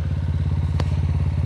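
An off-road motorcycle idles and runs on a forest trail with a loud, steady, pulsing engine note close by, and a short sharp clatter cuts through midway.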